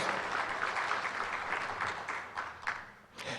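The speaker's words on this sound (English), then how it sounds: "Let's give these important partners of ours a big round of applause" A room of guests at a football press luncheon giving a round of applause, steady clapping at moderate distance that tapers off toward the end.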